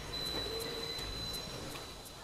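A train rumbles steadily, a thin high-pitched wheel squeal running over it and soft rhythmic clicks every half second or so.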